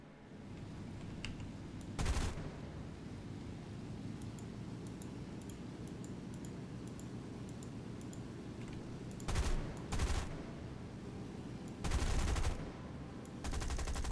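Four rear .50 caliber defensive machine guns on a British bomber in War Thunder fire in short bursts: one around two seconds in, then several clustered near the end, over a steady engine drone.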